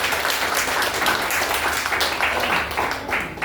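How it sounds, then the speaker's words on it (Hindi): Loud, sustained applause from a church congregation during a Hindi-language worship service, with dense, continuous clapping and no break. "यीशु के जोर से ताली मारें।"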